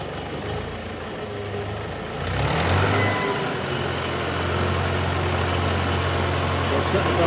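A tractor engine idles steadily at close range with a low, even drone that grows slightly louder partway through, while rural background noise fills in around it.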